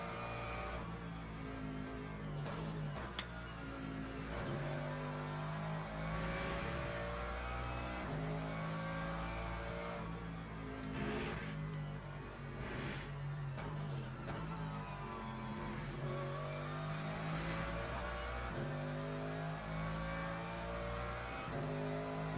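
A Mercedes GT3 race car at Imola in the Le Mans Ultimate video game, its engine droning and rising and falling through gear changes and acceleration, loud and continuous from the cockpit.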